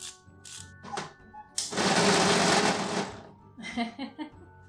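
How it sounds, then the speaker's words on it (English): A battery-powered Scared Scooby Happy Meal toy shivers and rattles with a buzzing vibration lasting about a second and a half. Brief rattles and someone talking come before and after it, close and fairly quiet. "He just makes a lot of rattling noise."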